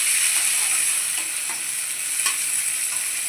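Chopped tomato sizzles steadily with onions in a hot pan while semolina upma is being cooked, a continuous close hiss with a few faint stirring taps and no voices.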